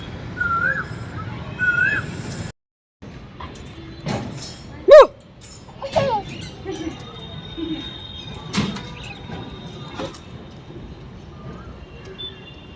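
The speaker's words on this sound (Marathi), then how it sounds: "संध्याकाळी छान असा कोकिळेचा सुमधुर आवाज येत होता." An Asian koel sings in the evening, its calls rising now and then above a busy mix of other bird chirps and household noise, with a short silent gap early on.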